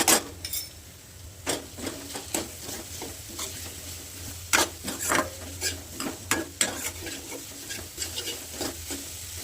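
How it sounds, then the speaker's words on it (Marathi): Onion and tomato with ginger-garlic paste sautéing for dal tadka, a low steady sizzle broken by repeated sharp scrapes and clinks of a spoon stirring against the pan, with no talking. "कांदा टोमॅटो हे सगळं परतवून घेतले, मस्त परतले बरं का सगळं"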